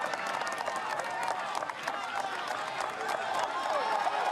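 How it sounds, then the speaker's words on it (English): Dense crowd of cyclo-cross race spectators cheering and clapping steadily along the course at a World Cup in Namur, Belgium, a continuous loud roar of applause with a commentator talking over it. "The crowd through this area is incredible."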